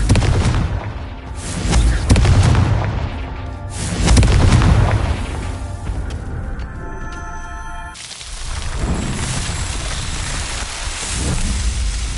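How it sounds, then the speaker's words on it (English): Booming fire-blast explosions from the Confringo spell in the Hogwarts Legacy video game on PS5, several heavy bursts with rumbling decay and crackling debris, loud and close with no speech. "Confringo."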